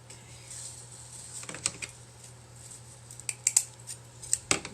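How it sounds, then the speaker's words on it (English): Scissors snip through material close by, with scattered crisp cuts and clicks over a low background hum, no voices. "You could just cut it with your scissors"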